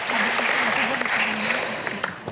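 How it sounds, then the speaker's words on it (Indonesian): Crowd applause at a Perindo party political gathering, moderate and steady clapping under a faint voice and background hum throughout. "Kita berikan tepuk tangan juga."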